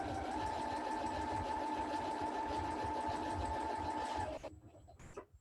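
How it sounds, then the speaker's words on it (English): A sewing machine stitches fabric in a steady, fast continuous whir that runs loud and even for about four seconds, then stops abruptly, leaving only a few faint clicks and rustles. "lift my presser foot, pivot to my fabric, drop my presser foot, and keep it going"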